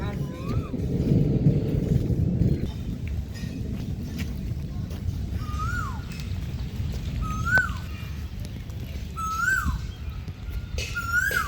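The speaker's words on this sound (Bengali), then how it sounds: "কোকিল ডাকতেছে।" A koel calls repeatedly beside an old village pond with mud houses nearby, its rising whistled notes sounding at a moderate distance every couple of seconds over a steady low rumble of outdoor background noise.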